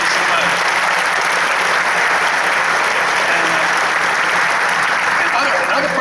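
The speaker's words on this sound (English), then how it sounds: "we want to give him a nice round of applause." A stadium opening-ceremony audience claps steadily in a dense, loud wash of applause that holds for the full six seconds with no break.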